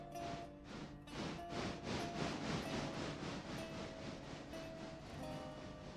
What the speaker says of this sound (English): Let's go and drag this choo-choo back out